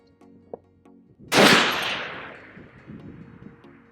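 A Barrett M107A1 .50 caliber rifle fires a single loud, sharp shot on an outdoor long-range course, its blast decaying into a long rolling echo that lingers for several seconds.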